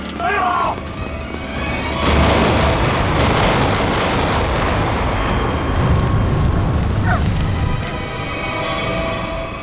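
A grenade blast in a Hindi TV crime drama makes a loud, sustained boom that swells after a couple of seconds and rumbles on before fading, with brief voices at the start.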